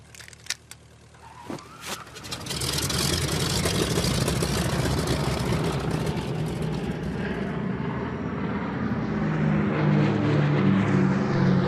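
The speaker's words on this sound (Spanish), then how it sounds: "Una escuadra de aviones de apoyo siguió el avión de Kennedy en el aire." After a few sharp clicks and thumps, a loud aircraft engine roar swells and holds steady, droning continuously to the end.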